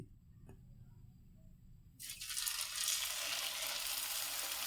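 Puris dropped into hot oil set off a sudden loud sizzle after a quiet start, and the bubbling hiss stays steady and close until the end.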